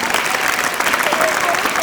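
Audience applause at a school inter-house patriotic song and skit competition: dense, steady clapping from a large crowd sustained throughout at even loudness.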